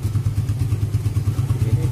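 A motorcycle engine idles nearby. It makes a steady, rapid low thumping pulse, loud and close, with no talk over it.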